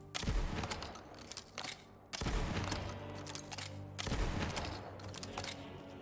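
Gunfire from a gun in Borderlands 4 crackles in three rapid bursts with short pauses between them, loud and close, with no talking over it.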